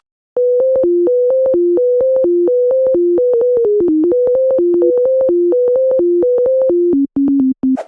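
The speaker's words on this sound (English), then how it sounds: "This sine wave will be replaced with the vocal" A pure, clean sine-tone melody steps between a few pitches in a steady rhythm, loud and alone, ending with short separated notes.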